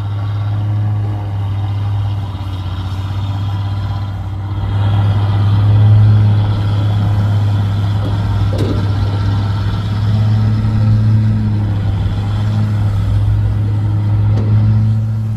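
An Isuzu Rocky 195 truck engine rumbles low and steady, swelling slightly as it revs while pulling away, loud and close without talk.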